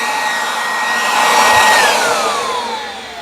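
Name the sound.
cordless leaf blower running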